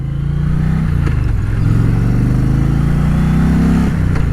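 Indian Challenger Dark Horse motorcycle engine while riding, a loud, steady low-pitched rumble with slight rises and dips in revs, close and continuous without speech.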